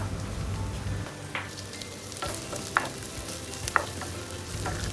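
Three dried red chillies frying in a hot pan for a green bean thoran, giving a steady moderate sizzle with a few sharp stirring scrapes and clicks and no voices.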